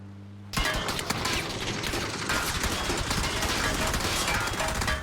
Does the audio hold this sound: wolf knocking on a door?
no